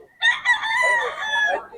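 A rooster crows at a poultry farm in Bocaue, a single loud, close cock-a-doodle-doo lasting over a second with a strained, harmonic call and no talk over it.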